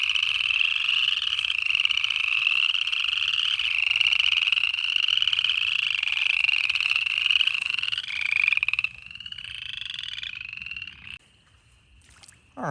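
Chorus frogs call in a dense, continuous trilling chorus at breeding pools on a December night in North Georgia, loud and steady, thinning out toward the end with a few scattered calls.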